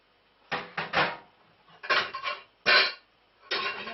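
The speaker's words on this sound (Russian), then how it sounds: "поэтому нужно перелить в большую кастрюлю по размеру." Small saucepan of hot Italian custard cream being handled and tipped into a larger pot: a few close, dull metallic clunks and scrapes in separate bursts, with quiet pauses between them.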